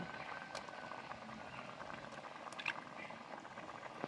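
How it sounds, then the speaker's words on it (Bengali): Egg curry broth boiling in a pot, a faint, steady bubbling with soft liquid pops and gurgles. "ঝোল ফুটে গেছে"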